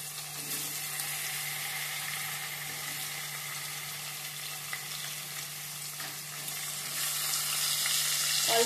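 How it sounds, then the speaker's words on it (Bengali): Pieces of paneer dusted with turmeric and salt fry in oil in a pan over medium flame, a steady close sizzle with occasional stirring scrapes and a faint background hum, no voices. "অল্প অল্প করে পনিরের টুকরোগুলো ভেজে নেব, হালকা ভাজা ভাজা করে নেব।"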